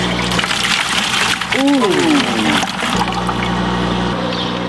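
Water pumped through an aquaponics system flows with a steady, close rushing and trickling, and a voice briefly exclaims over it.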